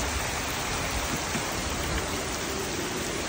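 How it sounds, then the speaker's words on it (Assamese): Heavy rain pouring outdoors at an unexplored spot, a dense, even hiss of falling water that stays loud and unbroken for the whole stretch, with no voices. "কি জোৰে বৰষুণ দিছে"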